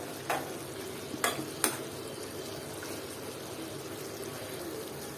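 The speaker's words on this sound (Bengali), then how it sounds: "এটাকে এখন আমি আবার একটু নেড়ে চেড়ে দিব ভালো মতো নেড়ে চেড়ে দিলাম" Mutton masala fries in a pan while being stirred. A low continuous sizzle carries a few sharp scraping strokes near the start, then settles into a quieter, even fry with no talk.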